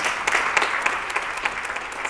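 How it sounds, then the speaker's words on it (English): Applause from the audience at a community forum on cannabis legalization held in a Baptist church: a steady, fairly dense wash of clapping with no talk, lasting about two seconds. "Round of applause to our esteemed panelists."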